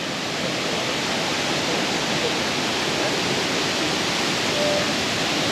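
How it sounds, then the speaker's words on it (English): Steady roaring rush of falling water from a waterfall on Babeldaob, Palau, loud and unbroken throughout, with no voices. "and now we've come to the waterfall"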